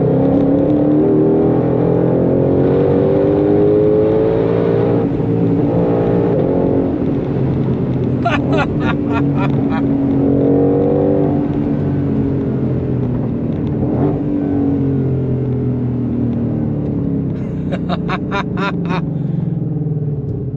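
A Dodge Scat Pack R/T accelerating hard, its engine rising in a loud revving roar through several upshifts, with brief rattling bursts between gears, heard continuously from close by.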